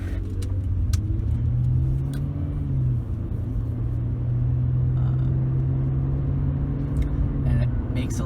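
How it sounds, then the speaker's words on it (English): A 2003 Honda Accord EX 3.0L V6 engine rumbles steadily with a deep, throaty custom exhaust note, rising slightly at moments, heard from close by with no talking. "it makes a nice amount of noise, once again because of that exhaust, custom exhaust"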